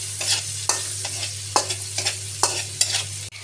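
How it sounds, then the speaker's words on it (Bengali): Shrimp frying in a pan with salt, a steady sizzle broken by repeated scraping stirs of a spatula, close and fairly loud with no voices. "পরিমাণ মতো লবণ দিয়ে চিংড়ি মাছগুলো ভেজে নিতে হবে।"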